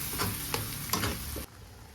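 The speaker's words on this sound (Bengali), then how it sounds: "ভালো করে নেড়ে নেবো, কাঁচা গন্ধটা যেন চলে যায়।" Spices with chilli, onion and a garlic clove are stirred as they fry in a pan, a close sizzle with scraping stir strokes that suddenly drops to near quiet after about one and a half seconds.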